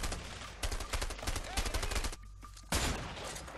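Rapid bursts of MP5 submachine gun fire in the video game A Way Out, loud and close, with repeated volleys and a short lull before shooting resumes.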